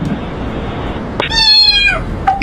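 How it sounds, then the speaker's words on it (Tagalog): A cat meows in a drawn-out, rising call close by, preceded by a short vocal sound and followed by a brief squeak at the end; steady low background hum underneath, no purring evident. "Where's that purring coming from?"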